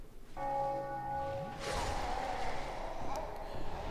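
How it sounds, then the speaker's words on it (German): A bell rings out in the video game Dark Souls 2, a clear tonal strike with a long sustained ring, then broken up by a louder whooshing crash of game noise while the ringing fades underneath. "Und es läutete eine Glocke."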